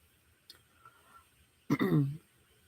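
A faint short sound, then a single throaty cough from someone with a cold, close and fairly quiet, in an otherwise still room.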